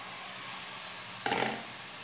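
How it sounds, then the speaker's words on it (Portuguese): Ground beef drops into a frying pan with a sudden burst of sizzle lasting about a quarter second, set against a steady low hiss of hot oil; fairly quiet and close, with no voices. "Vou colocar aqui a carne moída."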